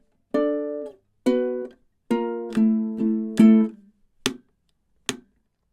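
Ukulele plays a riff, measures 11 and 12: five ringing plucked notes in a steady rhythm, then two short percussive thumb taps on the body, close and clean with no voice.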